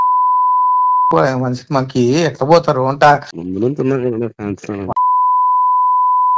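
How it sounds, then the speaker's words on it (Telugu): A steady censorship tone covers swearing by a politically angry fan: the beep runs alone before and after, while someone speaks loudly in the middle section. "ఈ మాటలకు ఎన్ని బీప్ సౌండ్లు వేసినామంటేనే అర్థం కావాలి"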